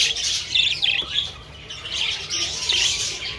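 A young budgie chick in training squawks in shrill, raspy bursts, close and fairly loud, with a few repeated calls and short gaps between them.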